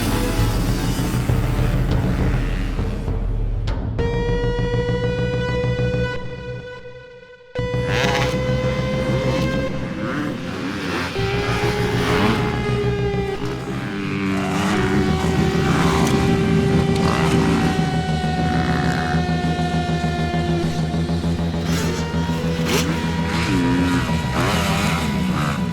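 Race cars racing, a steady roar of engines with rising and falling tonal whines from start to finish, cutting out briefly for a moment near the middle before the loud engine noise resumes.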